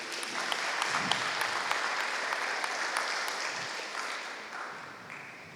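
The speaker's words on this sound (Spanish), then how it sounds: "¿Puede darle un aplauso al Señor por eso?" A church congregation applauds together in a steady, dense round of clapping that fills the whole stretch and thins slightly toward the end.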